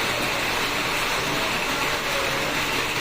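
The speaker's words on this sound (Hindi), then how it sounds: "तो जब बारिश का बूंदे गिर रहा था तो इतना तेजी से आवाज हो रहा था" Heavy rain drumming on a corrugated shed roof over a kitchen, a dense, steady, loud hiss-like patter that continues without a break, then drops off suddenly at the end.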